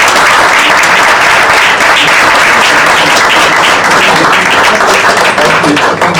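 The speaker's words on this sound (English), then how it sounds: "I'm sure you'd like to join me to give them a big round of applause" A club audience applauds loudly and continuously for several seconds, a dense, even wash of many hands clapping close around the listener.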